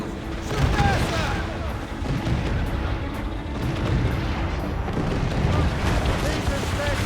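Naval cannons fire from ships in the video game Assassin's Creed Rogue, a dense run of deep booms and rolling rumbles over sustained battle noise, with voices shouting over it.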